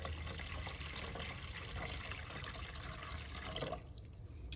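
Water poured into a pot for steaming Guyanese custard, a steady broadband splashing and running flow close by that eases off near the end.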